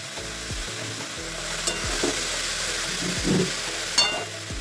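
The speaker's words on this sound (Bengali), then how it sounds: "এবার একটু ভাজবে, এপাশ ওপাশ করে ভেজে নেবে" Matar shak greens seasoned with salt and turmeric fry in a pan with a steady, close sizzle, punctuated by a few soft stirring scrapes and clinks.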